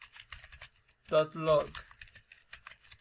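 Typing code on a computer keyboard makes scattered quick key clicks, both under and between a voice, which takes up the middle of the clip.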